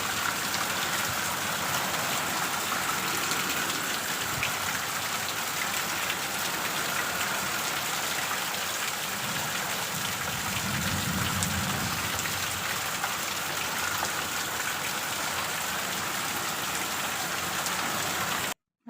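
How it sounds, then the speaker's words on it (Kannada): Heavy evening rain pours steadily with gusting wind, a dense continuous hiss of drops on surfaces that holds loud and even throughout, with a faint low rumble swelling midway and no voices. "ಸಿಕ್ಕಾಪಟ್ಟೆ ಮಳೆ ಇತ್ತು."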